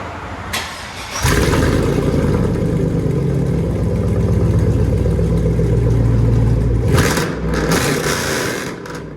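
A 2002 GMC Yukon 5.3L V8 with true dual straight-pipe exhaust starts up with a brief crank, then a loud, deep, throbbing idle rumble holds steady before it revs and settles back.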